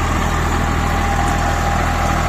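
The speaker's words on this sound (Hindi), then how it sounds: "ट्रैक्टर जो फिर चल रहा है" A tractor engine runs steadily with a Shaktiman rotavator attached, a loud continuous low drone with a regular throbbing pulse and no talk.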